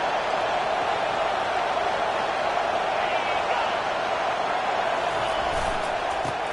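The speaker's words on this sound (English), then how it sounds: "This crowd bringing the energy and noise early." A stadium crowd at a football game roars steadily and loudly from start to finish, a dense, unbroken wall of cheering with no clear pauses.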